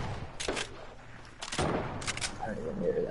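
Bursts of AK rifle fire in an online shooter game, several short sprays at close range, loud and sharp, separated by brief pauses with game ambience between them.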